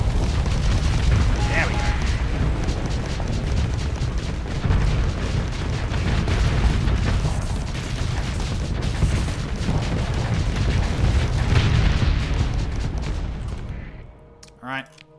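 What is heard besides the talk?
missile explosions in video game Starsector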